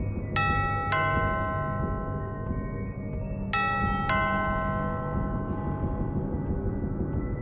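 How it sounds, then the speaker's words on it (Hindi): A doorbell gives two bright ding-dong chimes a few seconds apart, each ringing out clearly over a steady low rumble. "साथ ही कानों में डोरबेल की आवाज।"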